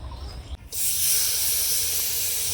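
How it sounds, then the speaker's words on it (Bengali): Jaggery boiling in a pan for mango pickle sends up a loud, steady hiss that swells suddenly after a brief quieter moment and then holds close and constant. "যে গুড়টা দিয়ে আচার বানাবো সেই গুড়টা একটু ফুটিয়ে নেব আমি"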